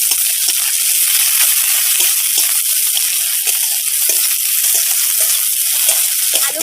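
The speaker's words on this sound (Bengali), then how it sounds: "আমি তেলের মধ্যে অল্প একটু গোটা জিরে দিয়ে দেবো, আর পেঁয়াজ কুচি দিয়ে দেবো, আর একটা কাঁচা লঙ্কা দিয়ে দেবো।" Whole cumin seeds, chopped onion and a green chilli frying in oil: a loud, steady, hissing sizzle with crackling pops throughout, close to the pan and with no talk over it.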